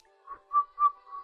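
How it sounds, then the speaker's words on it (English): A person whistles a short tune of four brief notes, the middle two loudest, alone and fairly close with no talk. "Whistle."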